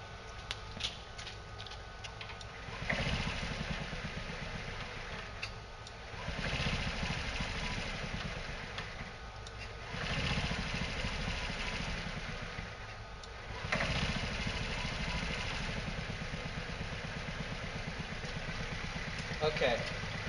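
A hydrogen-fuelled scooter engine runs with the throttle turned up, a close, steady buzzing drone that swells and eases in several surges over about twenty seconds, with voices talking over it.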